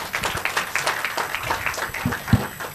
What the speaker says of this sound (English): Big round of applause for Tim.